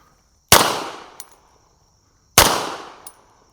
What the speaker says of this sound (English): See how quickly the gun is bouncing off target?